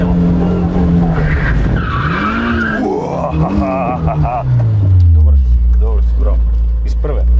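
A car is thrown into a handbrake turn during a stunt challenge, its tires squealing and skidding over a revving engine while people shout and talk excitedly nearby.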